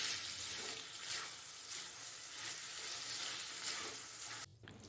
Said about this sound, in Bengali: এবার গাজর আর ক্যাপসিকাম কুচিকে চিকেন কিমার সঙ্গে একটু নেড়ে চেড়ে নিতে হবে।